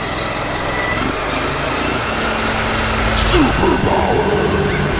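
A mobile steam cleaning unit's small engine, used for degreasing a tractor, starts with a key and settles into a loud, steady high-pitched running drone close by.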